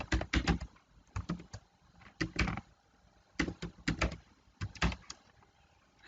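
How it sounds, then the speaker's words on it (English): Keys clatter on a computer keyboard in quick clustered bursts with short pauses between, close and fairly quiet in a still room. "type the name of the project"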